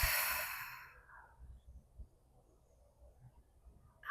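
A long, audible exhale during a full-body yoga workout fades out over about a second, leaving quiet soft breathing and faint low thumps close by.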